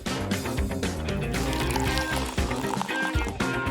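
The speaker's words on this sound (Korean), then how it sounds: "다 섞고 나면 병 안에 다시 부어주세요." Tinted soda is poured back into a bottle, a close, continuous liquid gurgle and splash over a few seconds, partly masked by a busy background layer.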